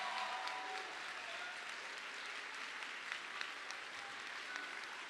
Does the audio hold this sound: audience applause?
yes